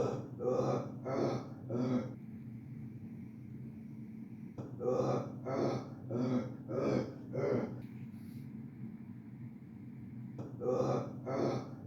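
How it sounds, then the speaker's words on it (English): Heavy breathing in loud rhythmic bursts of ragged, throaty gasps, repeated in groups of four or five with short pauses between, over a low steady hum. "heavy breathing."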